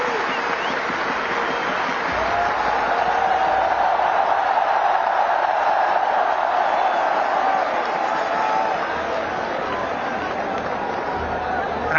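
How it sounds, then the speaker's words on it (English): A big stadium crowd applauds steadily and loudly at an Indian cricket team's T20 World Cup victory celebration at Wankhede Stadium, a dense continuous wash of clapping mixed with crowd chatter for the full stretch. "receive a big round of applause from everyone"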